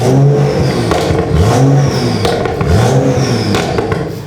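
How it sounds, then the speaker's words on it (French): A BMW N55 inline six-cylinder engine in a 335i revs repeatedly, rising and falling in pitch, loud and close with a raspy exhaust tone and no talking. "Moi j'adore le bruit du N55."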